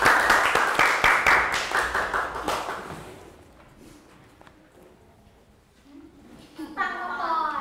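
Children clapping together in a social studies class, a rhythmic round of loud claps for about three seconds that stops abruptly, followed by quiet and then an adult voice speaking.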